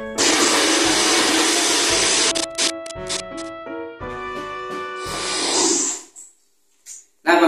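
A blender grinds red chili spice paste with a little water, whirring loudly and steadily, pulsing on and off, then stopping briefly and starting again.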